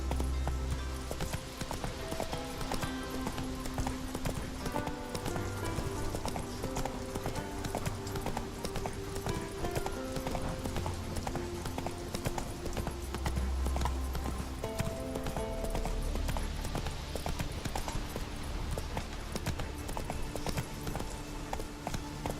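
Roach, the horse in The Witcher III: Wild Hunt, galloping steadily with rhythmic hoofbeats that continue throughout, set against a constant backdrop of game music.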